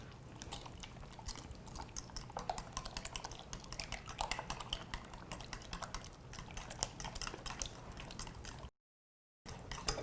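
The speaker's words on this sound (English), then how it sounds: "And you're just going to whisk that together." Wet ingredients for a wood-fired raspberry ricotta cake, flavoured with orange, are whisked together in a bowl, producing a steady run of quick, close clicking and tapping strokes with no talking.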